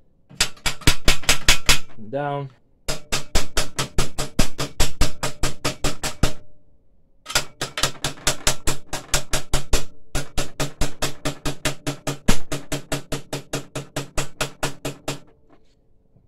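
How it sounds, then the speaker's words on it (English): Repeated hammer blows bend down metal parts of an L1800 UV printer during repair, a long run of sharp, evenly paced strikes in several bursts with short pauses, close and loud, with a brief spoken word. "let me just get a hammer"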